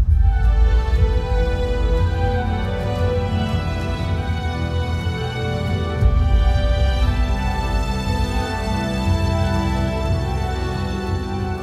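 Dense orchestral score built on the Lord of Toms ensemble, with light-velocity toms and percussion driving the main rhythmic accents under sustained strings and brass, loud and continuous throughout.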